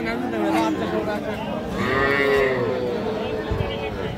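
A Sahiwal bull calf moos loudly at the Birampur cattle market, with a long drawn call rising over steady crowd chatter and people talking nearby.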